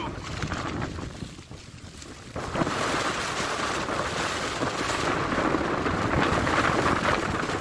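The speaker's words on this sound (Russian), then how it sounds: "Льет дождь, дует сильный ветер." Strong wind and rain on the 700-metre summit of Mount Sovkhoznaya near Novorossiysk, a heavy roaring buffet of gusts against the microphone that swells louder after a brief lull, under steady rain.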